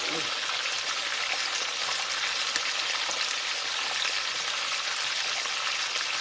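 Pork chops fry in used grease turned all the way up to high heat, a loud, dense, continuous sizzle and crackle that holds steady from start to finish with no breaks.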